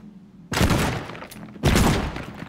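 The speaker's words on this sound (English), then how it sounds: "So how about I try to blast this area here with a shotgun maybe." Two loud, close shotgun blasts in the Teardown video game, each a sharp broadband crack with a rolling, debris-laden tail as the area is destroyed, about a second apart, with no talk over them.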